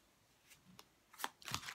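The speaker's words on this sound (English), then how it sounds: "I'm going to pull 6 cards first" Tarot cards being shuffled and pulled from the deck, a few quick papery riffles and flicks building to a louder snap near the end, close and fairly quiet, with no talking.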